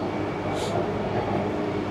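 Steady, continuous rumble of a metro train riding underground, with broadband rolling and track noise filling the whole span at an even loudness.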